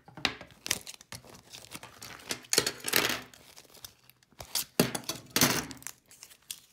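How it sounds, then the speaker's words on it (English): Tape peeled and torn off the back of machine embroidery in a hoop makes sharp ripping and crinkling bursts in several separate pulls, close and fairly quiet, with no talking. "turn it over, remove all the tape"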